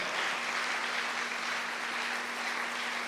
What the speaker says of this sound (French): Est-ce qu'on ne peut pas entendre des acclamations, même vous qui suivez au loin?